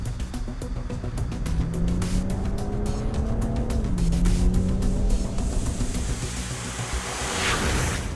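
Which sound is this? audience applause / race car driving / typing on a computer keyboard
race car driving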